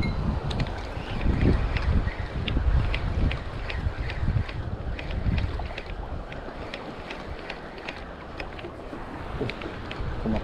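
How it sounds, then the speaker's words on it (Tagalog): Strong gusty wind buffets the microphone in a steady low roar at an outdoor fishing spot, with faint clicks and water sounds underneath; no one speaks. "Malakas kasi ang hangin, hirap bumato."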